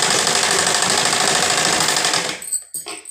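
A sewing machine stitches cloth in a fast, continuous loud mechanical rattle that runs for over two seconds and then stops, leaving a few short clicks.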